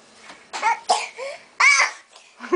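A young child gives a few short coughs and vocal bursts in quick succession, close and fairly loud, with babbling sounds in between.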